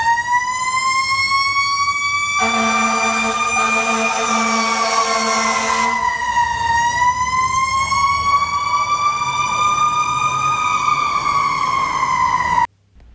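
A loud, continuous electronic fire engine siren in a video game wails steadily, its pitch sweeping in a smooth rise and fall, with a brief horn-like blast near the start.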